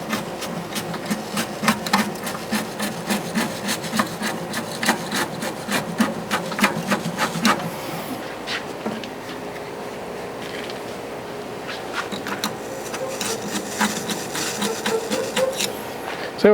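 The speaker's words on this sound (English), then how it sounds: "I'm going to continue scraping this off" Scraping an old gasket off a kamado grill with a metal tool, a long series of fast, rhythmic rasping strokes, close and steady, with a brief pause before the scraping resumes.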